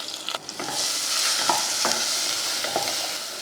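Spices for rasam sizzle steadily in a hot pan, with a few scraping stirs of a spoon against the metal and no talking.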